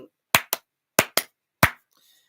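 Five separate sharp hand claps in an uneven pattern of two pairs and a single, close and loud, with a faint murmur afterward, during talk about the Pharrell concert in Saudi Arabia.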